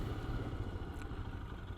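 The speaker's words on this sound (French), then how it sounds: "Belle moto pour faire la route." A Honda Gold Wing motorcycle engine hums low and steady while riding at about 30 km/h, a close, continuous rumble mixed with road and wind noise, with no talk.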